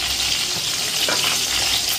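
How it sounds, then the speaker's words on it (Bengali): A hilsa fish head fries in oil, a steady dense sizzling hiss that runs throughout, close and fairly loud, with a few faint bubbling pops and no voices. "দেখো এখানে ইলিশ মাছটা হচ্ছে"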